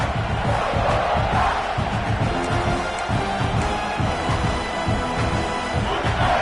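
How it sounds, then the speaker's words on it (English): A football video game stadium crowd roars at full throat, a dense, steady wall of cheering and shouting that holds loud and unbroken throughout. "This crowd, full throat, splitting the eardrums and letting them know it's going to be a long day."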